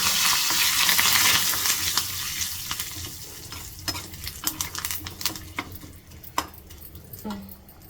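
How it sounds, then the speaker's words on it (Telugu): Dried red chillies and asafoetida crackle and sizzle in a hot pan as a tempering for a wood apple chutney, with a loud hiss that starts strong and fades into scattered pops and metal stirring clinks. "కటర్లోకి తీసుకున్నాం కదా ఇప్పుడు తాలింపు దీంట్లో వేసేస్తున్నా నేను"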